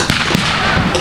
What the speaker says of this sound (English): it's mainly dealing with machine guns with small arms fire that they're dealing with